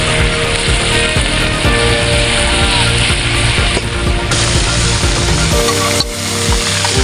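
Loud, dense sizzling of tikling birds deep-frying as lechon kawali in hot oil, a constant close crackle that runs without a break, with no voices.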